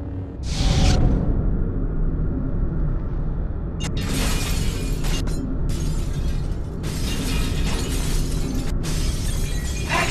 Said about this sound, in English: prove your mastery of grip by using the object to smash through these three glass panels